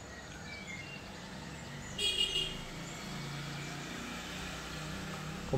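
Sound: car horns honking at a street corner

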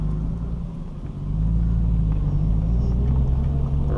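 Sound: 1989 Toyota Supra engine running while driving

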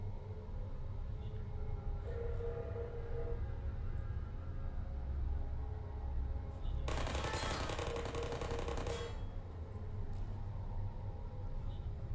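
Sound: turrets shooting in the video game Portal

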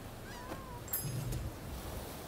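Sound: cat meowing in video game Rise of the Ronin

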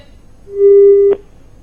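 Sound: telephone busy tone after call disconnected

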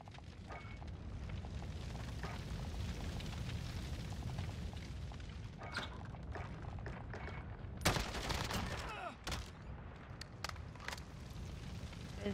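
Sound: Galil semi-auto rifle gunfire in Modern Warfare video game

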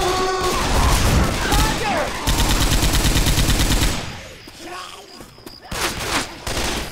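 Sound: gunfire from a big gun in Left 4 Dead 2 video game

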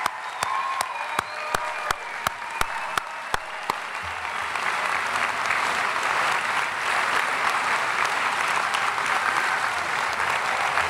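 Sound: commencement audience applauding honors scholars

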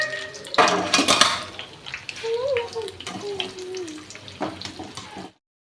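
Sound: plantain bajji fritters frying in hot oil

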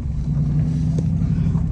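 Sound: rebuilt Dodge Challenger driving on test drive

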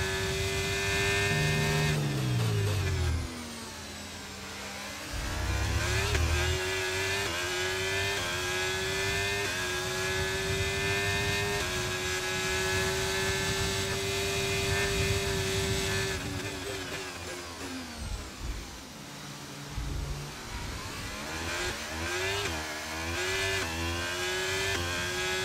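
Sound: race cars racing in a video game, Austria round

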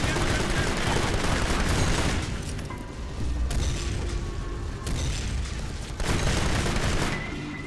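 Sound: mortars firing in the video game Kane & Lynch: Dead Men

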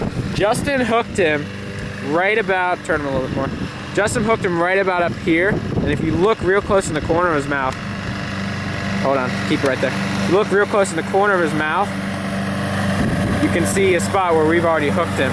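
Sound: lawnmower running nearby

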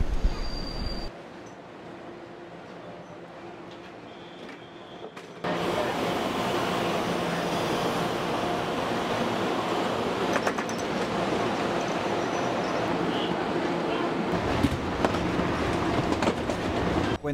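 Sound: train travelling from Taipei to Yilan, Taiwan

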